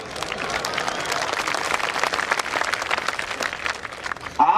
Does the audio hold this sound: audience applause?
yes